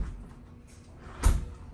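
Front door of a Texas farmhouse opening, a single short thud-like clunk with a brief broadband swell against a quiet indoor background, fairly close and alone.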